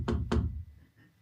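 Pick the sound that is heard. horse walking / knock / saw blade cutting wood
knock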